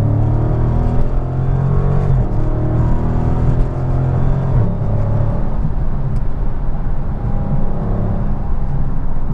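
Dodge Charger R/T Scat Pack with its 485-horsepower Hemi V8, driving along with a steady, loud low engine drone and rumble that swells slightly as it pulls, no voices over it.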